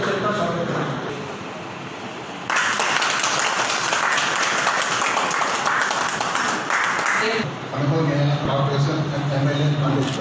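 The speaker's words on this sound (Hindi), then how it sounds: "तालियों से सबका स्वागत करें।" An audience breaks into dense, sustained applause to welcome guests at a chamber of commerce function, loud and continuous for several seconds before tapering off as a voice resumes.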